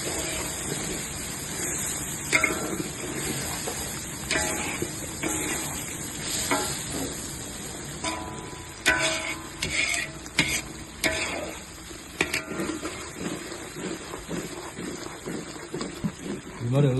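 A ground paste of cinnamon, chilli, ginger, garlic and onion fries in oil for Malaysian mamak-style mee goreng, giving a steady, dense sizzle with scraping stirs and clatter throughout, and a voice heard now and then.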